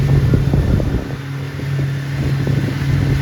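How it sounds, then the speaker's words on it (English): Steady wind rushes and buffets across an open microphone at a sailing regatta for C420 dinghies, a continuous low broadband roar with gusty swells and no voices. "the wind is just starting to come around from the east and blow"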